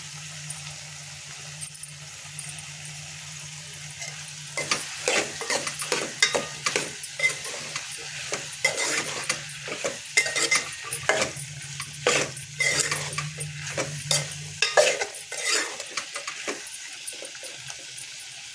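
Tomatoes with salt and chilli powder frying in a pan for a ridge gourd and bean curry, a steady sizzle under repeated scraping stirs of a spoon, close and rhythmic, with no talking.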